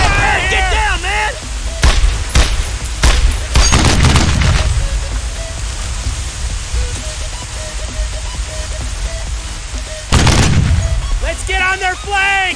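Gunfire and heavy booms in Brothers in Arms, a World War II battle at Cherbourg, France: scattered sharp shots, then a loud crashing blast and another later, with voices shouting at the start and end.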